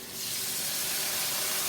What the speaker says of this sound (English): I'm going to put a little bit of water in them just to steam them for a couple of minutes.